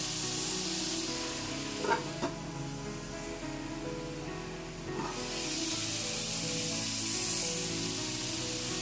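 Mushroom fried rice ingredients cook in oil in a pan, a quiet, steady hiss with a couple of small clicks early on and a slightly louder, fuller sizzle in the later part.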